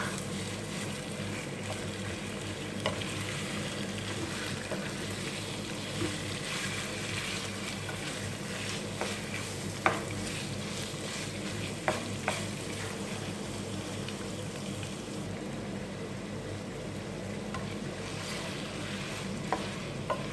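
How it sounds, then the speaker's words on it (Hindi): Half a kilo of chicken keema stir-fries with ginger and garlic in a pan, giving a steady low sizzle with occasional scrape-and-clink stirring taps over twenty seconds, moderately loud and close, with no talking. "जो हमने चिकन का हाफ़ केजी कीमा लिया है, ये हम इसके अंदर डालेंगे और इसको भी इसके साथ ही भून लेंगे"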